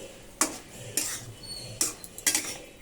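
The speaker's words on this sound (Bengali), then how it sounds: "একবার লতির ঢাকাটা সরিয়ে দেখব যে কতটা হয়েছে একটু নেড়ে দেবো" A pot lid lifted and kochur loti (taro stolons) stirred in a pot on a stove, heard as four sharp metallic clanks and scrapes spaced about a second apart, fairly close, with quiet pauses between and no talking.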